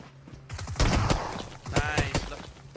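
Gunfire in a mobile battle royale game rattles out in quick bursts of shots, fairly faint and spread across the stretch, with brief game effects between volleys.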